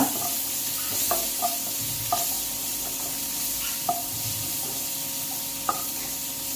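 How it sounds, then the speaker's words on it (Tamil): Green chili, curry leaves and coriander sauté in a pan with a steady, close sizzle, and a spoon scrapes and taps the pan every few seconds. "அது கூட இந்த ஒரு பச்சை மிளகா, இந்த கருவேப்பிலை, கொத்தமல்லி தழை இதையும் போட்டுக்கலாம். கொஞ்சம் வதக்கிக்கலாம் நல்லா."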